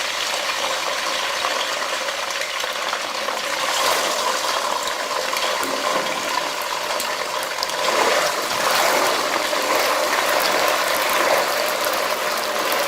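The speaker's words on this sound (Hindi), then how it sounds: "अब हम इसके अंदर मैकरोनी को फ्राई करेंगे।" Macaroni fries in hot oil in a wok, giving off a continuous crackling sizzle. The sound is steady and close throughout, with some brief swells of bubbling and no talking.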